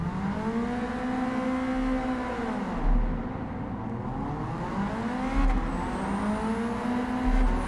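A Ford Sierra RS Cosworth launches hard in Gran Turismo 7. The loud engine revs climb and drop with each gear change, and the shifts come at a steady rhythm.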